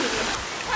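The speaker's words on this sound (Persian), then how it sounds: "آبشارش خیلی گنده است" A big waterfall roars as a steady, dense wash of falling water, close and continuous through a brief moment with no pauses.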